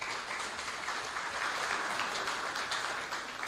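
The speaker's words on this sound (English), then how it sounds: "Ladies and gentlemen, a round of applause." A pageant audience claps for the chairperson of judges, a steady, moderately distant wash of applause that holds without pause throughout.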